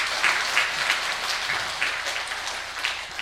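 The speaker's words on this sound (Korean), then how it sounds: "여러분이 칠 수 있는 최고의 박수를 하나님께 드리겠습니다" A church congregation applauds during a Sunday service at Seoul Saegwang Church, giving a sustained wash of many hands clapping, loud and fairly even, with no talking over it.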